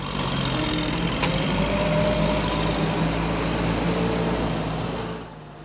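Feed trucks rumble at a cattle feedlot while unloading ration, a loud, steady diesel engine drone that holds for several seconds, then fades slightly at the end.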